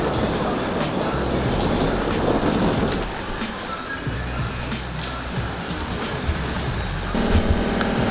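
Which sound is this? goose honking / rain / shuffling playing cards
rain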